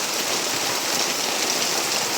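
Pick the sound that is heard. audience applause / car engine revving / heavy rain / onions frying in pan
heavy rain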